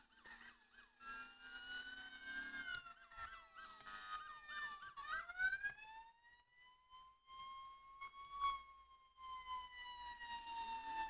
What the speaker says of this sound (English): Put our sirens on.